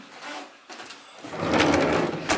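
Loud drawers in a newly moved-into home slide open and shut, making scraping runners and a rattling knock, close by with a brief lull in between.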